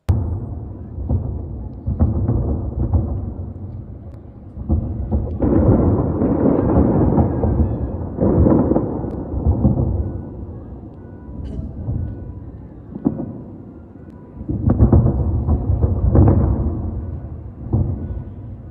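Deep, rumbling booms roll in at intervals, several heavy blasts swelling and fading like distant explosions, with no clear voices.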